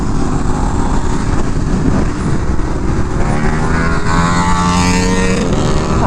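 A 2022 KTM 1290 Super Duke R motorcycle engine revving hard under acceleration, a loud continuous roar with rising pitch and wind rush, steady and close throughout.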